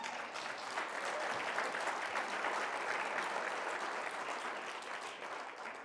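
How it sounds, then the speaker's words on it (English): Sustained audience applause from a keynote crowd thanking the previous speakers, a dense, steady wash of many hands clapping at even loudness throughout, with no speech over it. "maybe another round of applause for the last speakers"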